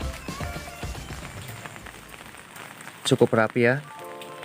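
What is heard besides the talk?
light drizzling rain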